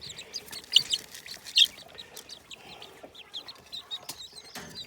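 Chickens and broody chicks in a homestead coop cluck and chirp in short, scattered calls at close range, with a couple of louder squawks against a quiet background.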